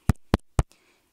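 Three sharp, close thumps land about a quarter second apart as fingers tap the right side of a Sony ECM-CS3 clip microphone, followed by faint near-silence.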